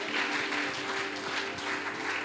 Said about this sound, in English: Come on, put your hands together for him now.